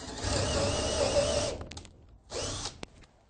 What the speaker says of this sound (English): Grab your drill, the suitable drill bit, find a good spot.